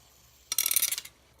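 Metal fidget spinner flicked into a spin: a short, close burst of fast rattling, whirring clicks lasting about half a second, then quiet.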